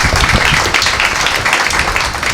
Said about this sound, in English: Applause for these two geniuses here.